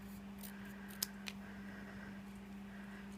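Scissors snip a paper cupcake topper in a quiet room, two or three small, crisp cuts over a low steady hum.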